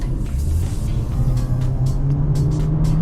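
A 2018 Toyota C-HR 1.8 Entry on a test drive gives a steady low engine and road hum from inside the cabin, with a constant rumble and no voices.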